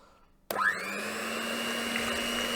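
An electric hand mixer whirring through pancake batter, which switches on abruptly and spins up into a loud, steady, close motor whine that holds to the end.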